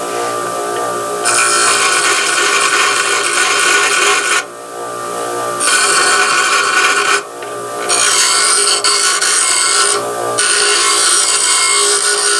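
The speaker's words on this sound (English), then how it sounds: "I'm just going to dress up the ends here, put a little chafer on them" Steel stud and joystick ends dressed with a grinder: loud, close abrasive grinding in four long bursts separated by brief pauses.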